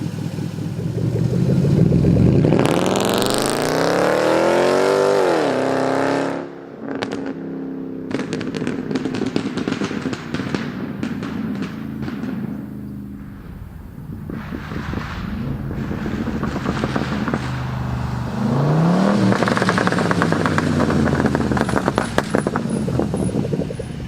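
A supercharged 2013 Range Rover Sport with a custom exhaust revs up hard with a rising roar, crackling exhaust pops, then falls back and surges again, loud and close.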